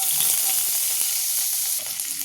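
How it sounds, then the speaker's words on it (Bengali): Chopped cabbage, carrot and beans sizzle in hot oil in a wok, a loud, constant hiss with small crackles and the light scrape of stirring. "কড়াইতে তেল দিয়ে দিলাম, তারপরে কিছু সবজি কাটা আছে, বাঁধাকপি, গাজর, ক্যাপসিকাম আর বিনস।"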